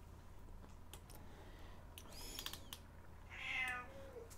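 A pet cat meows with a rising, drawn-out call near the end, after scattered soft clicks and rustles in a quiet room.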